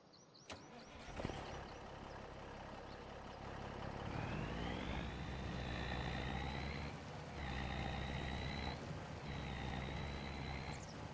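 A Kenworth truck in Farming Simulator 25 starts and drives, with a continuous engine drone that rises in pitch as it moves and drops back at a couple of gear changes, steady and loud the whole time.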